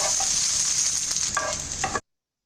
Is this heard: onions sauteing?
yes